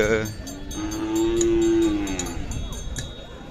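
A single long, loud moo from a cow or bullock rises and holds at a busy Khillar cattle market in Sangola, with crowd noise faint behind it.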